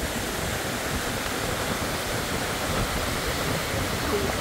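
Swiss waterfall at Jaun, Simmenfälle or Iffigbach, a steady loud broadband roar of falling water, continuous and close, with no voices.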